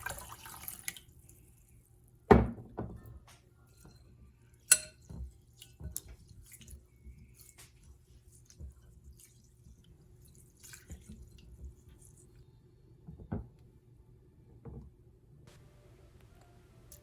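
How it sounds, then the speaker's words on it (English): Rice being rinsed in water until it runs clear, heard as scattered drips, small splashes and sloshing against a faint steady background hum, with a few sharper knocks from the bowl or sink. "we will take 1 cup of rice and wash it until the water runs completely clear"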